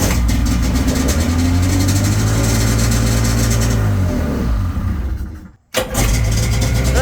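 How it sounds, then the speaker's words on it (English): Twin engines of a 1996 Sea-Doo Speedster boat crank and rumble steadily, a loud mechanical drone that cuts out abruptly near the end before firing up again. "I'm going to show you that both engines run just fine."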